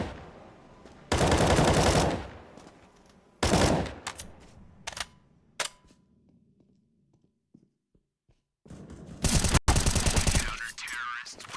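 Rifle gunfire in Counter-Strike on the Overpass map, heard as loud sustained automatic bursts plus several shorter volleys and single shots, separated by quieter gaps with faint game ambience.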